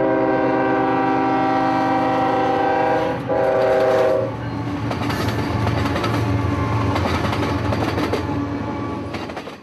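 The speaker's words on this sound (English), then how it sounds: "It was only about 12 minutes or so when the circus train arrived at Baldwin." The Ringling Bros. circus train arrives at Baldwin, its horn blaring in long sustained chords before giving way to loud, close rumbling and clattering wheels as the cars roll past.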